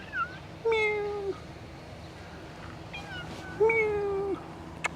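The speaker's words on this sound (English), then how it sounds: "And here's another cat." A cat on a sunny coastal path in Paphos gives two drawn-out, rising-and-falling meows a few seconds apart, close and clear over faint outdoor background.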